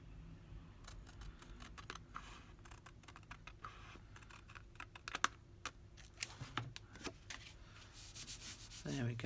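Paper being hand-cut while making an accordion envelope journal, a run of close, crisp snipping and rustling strokes that grows louder toward the end, with no talking.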